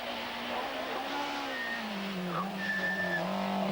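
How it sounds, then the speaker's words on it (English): Mazda rally car on a special stage at Rally Poland 1991, engine droning and shifting pitch as it passes at moderate distance, with steady road and wind noise and brief whining tones. "here's Sundström with the Mazda"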